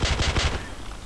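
Rapid bursts of 9 mm gunfire in Counter-Strike 1.6 Modern Warfare 2, about five close, loud shots in quick succession, then a fading tail with no talk.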